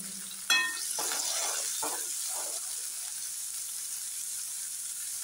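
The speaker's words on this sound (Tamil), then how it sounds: "இப்போ வந்து வெங்காயம், பச்சை மிளகா, கருவேப்பிலை முதல்ல வதக்கிக்கலாம்." Onion, green chili and curry leaves hit hot oil in a pan for a paneer masala dosa, with a sharp initial crackle settling into a steady close sizzle and a few stirring scrapes.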